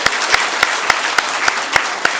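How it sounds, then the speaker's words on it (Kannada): An audience at a student merit award ceremony claps loudly and evenly, with a quick regular beat of strong claps running for a couple of seconds, up close and without voices. "ಬರಲಿ ಜೋರಾದ ಚಪ್ಪಾಳೆ."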